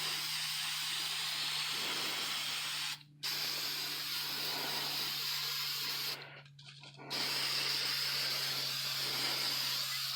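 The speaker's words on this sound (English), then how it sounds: "And I'm going to go ahead and just spray that over the whole piece" Clear acrylic gloss sprayed from an aerosol can over a DIY Red Hood cosplay mask, a steady close hiss lasting several seconds with two brief pauses, the second about a second long, and no talking.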